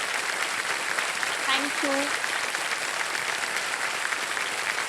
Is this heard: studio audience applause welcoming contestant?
yes